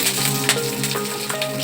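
Green chillies frying in oil over a low flame for a squid thoran, a continuous close crackling sizzle with scattered small pops, no voices.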